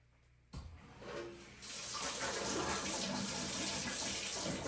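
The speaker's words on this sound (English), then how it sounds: "Let's see if we get water out of our taps." Water gushes from newly connected taps after a long trench-digging job, starting abruptly and swelling into a steady, loud, close rush that keeps running alone.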